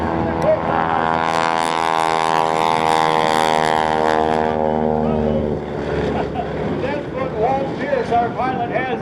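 A propeller-driven barnstormer biplane carrying wing walkers drones overhead at an air show, its engine tone strong and then fading as it passes, while a commentator talks over it.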